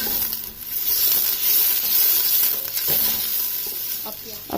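Finely chopped onions fry in hot oil in a pressure cooker, giving a continuous close sizzle with occasional scraping stir sounds throughout.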